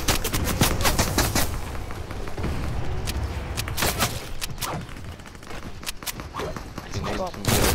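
Gunfire in Fortnite: sharp rapid shots and sprayed automatic bursts in clusters, fairly close, with footsteps and players talking over the action.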